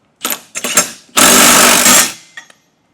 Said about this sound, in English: Now we can tighten our 2 bolts down with a 15/16 inch socket on both sides.